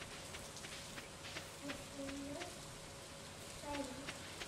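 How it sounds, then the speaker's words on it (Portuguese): Rain falling in the farming game Stardew Valley, a soft steady patter with light drop sounds, joined by brief tonal game effects and faint talk. "Tá chovendo, da hora."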